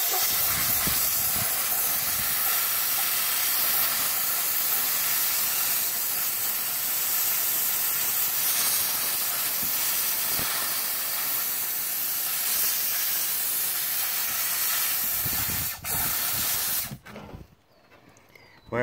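Steam cleaner hissing continuously as it sprays onto a car battery, a loud, steady broadband jet for about sixteen seconds before cutting off abruptly.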